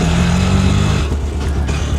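In an animated Bengali village story, auto-rickshaws and motorcycles drive away at dawn. A loud, steady engine drone fills the sound, with a low humming tone that drops away about halfway through as the traffic noise carries on.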